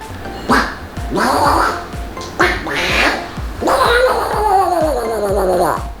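Ducks quack loudly and repeatedly at close range around a holiday house, rough nasal calls coming in bursts with someone talking over them.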